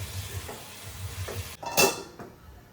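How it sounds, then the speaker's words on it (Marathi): Okra with salt cooks in a pan and is stirred: a soft continuous sizzle with light scraping strokes, then a sharper metallic clank of utensil against pan before the frying settles again. "आता याच्यामध्ये टाकून भेंडी. मीठ पण टाकलेलं आहे आणि नंतर आपण मिक्स वगैरे करून घेऊ."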